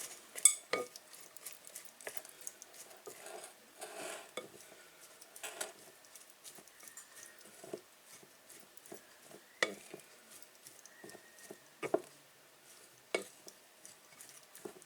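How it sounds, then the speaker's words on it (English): Spoon clinking and scraping against a bowl while dry ingredients are mixed for a hash brown pizza, close and fairly quiet, in irregular taps and knocks with no talking. "Okay, so give everything a mix."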